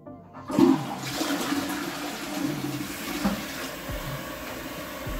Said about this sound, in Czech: Já ho asi zapomněl spláchnout ráno.